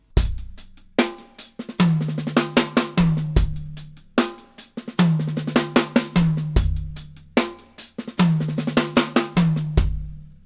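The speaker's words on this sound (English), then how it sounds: "I can take that ghost stroke and turn that into a diddle or a drag" Snare-and-kit groove on a drum set with a left-hand diddle or drag of two quick thirty-second notes on the snare filling the gap, repeating in a steady looping pattern of sharp hits and low thumps, close and loud with no talking.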